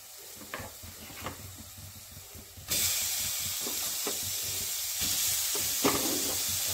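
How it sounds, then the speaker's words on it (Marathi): Marinated shark fish hits a hot turmeric tempering and breaks into a sudden, loud, continuous sizzle and hiss of frying that persists to the end, after a quieter crackle beforehand. "ह्या फोडणीमध्ये मगाशी मॅरिनेट करून ठेवलेली मसाला, मिरची पूड, थोडंसं मीठ असं लावून ठेवलेली ती मोहरी ह्याच्यावर घालायची."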